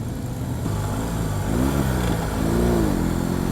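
A BMW R 18 Roctane motorcycle's big boxer engine revs twice as the throttle is pulled, each rise and fall a loud, close rumble over a steady idle.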